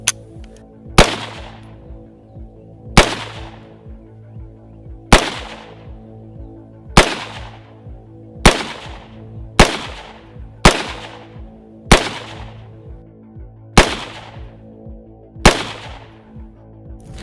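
Rifle shots crack out one at a time, ten sharp reports at uneven intervals of roughly one to two seconds, each followed by a short ringing decay over a steady low hum.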